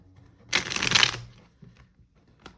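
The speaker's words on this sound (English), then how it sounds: "Shuffling's a little off this morning." A deck of cards riffle-shuffled once in a quick, crisp burst of flutter, close up, followed by faint handling noises.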